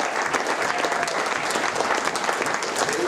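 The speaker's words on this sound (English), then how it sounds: "And now give the whole panel a very big round of applause." A festival audience applauds a panel with dense, steady clapping that fills the whole moment, close and loud from start to end.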